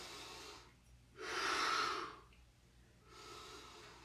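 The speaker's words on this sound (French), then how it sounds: "Remplis bien les poumons." Slow, deep breaths during a breathing exercise in training: a long, strong inhale filling the lungs, then a softer breath, each separated by quiet pauses, close to the microphone with no talking.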